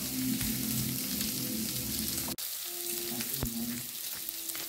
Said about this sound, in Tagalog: painitin lang natin yung pork. Medyo fried lang konti bago natin i-mix ulit.